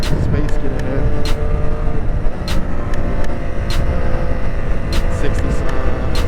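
A 2021 Triumph Street Triple RS naked sport bike's engine holds around 6,500 RPM, a loud steady close drone with a rushing wind layer throughout.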